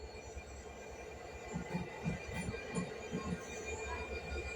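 A GB Railfreight train rolling into Tonbridge station, a steady rail rumble with rhythmic wheel clacks over the joints and faint high squeals, moderately distant and with no talk.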